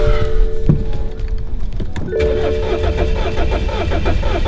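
BMW F30 328i engine cranking with a whirring starter, then catching and settling into a steady running idle, close and loud.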